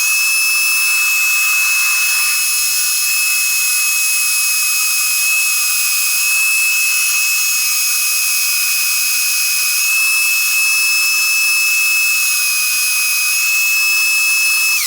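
A drill bores a hole in wood in a bow-maker's workshop, producing a steady, unbroken high-pitched whine that holds close and loud for the whole stretch, with no talking.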